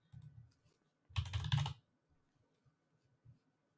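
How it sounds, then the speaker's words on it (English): A short burst of typing on a computer keyboard, with quick close clicks lasting under a second in an otherwise quiet room with no voices. "I'm gonna learn how to type correctly"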